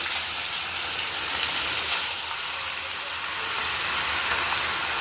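A fish head fries in hot oil as a dense, even hiss and sizzle, loud and close, holding steady for the whole stretch.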